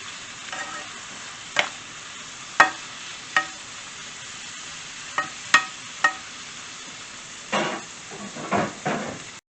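Sliced beef for Philly cheesesteak hisses steadily in a hot pan, with sharp scrapes and clacks of a spatula stirring it at irregular intervals, a few louder bursts of sizzling toward the end.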